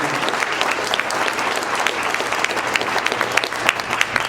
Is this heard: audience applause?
yes